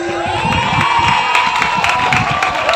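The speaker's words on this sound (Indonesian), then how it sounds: "Tepuk tangan untuk Kak Suri." A crowd at a Maulid Nabi religious gathering cheers and shouts, with children's voices and whoops rising over scattered clapping in a lively, continuous burst.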